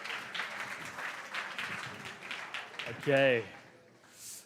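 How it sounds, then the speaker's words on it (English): Audience applause at a live startup awards ceremony in Cape Town, a scattered patter of clapping in a hall, with a voice speaking over part of it and a brief louder tonal burst near the end. "Everybody, a round of applause, please."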